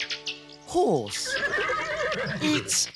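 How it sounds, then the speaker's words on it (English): A horse whinnies once with a loud, quavering neigh that falls in pitch, set against a busy background with other sounds. "It's a horse."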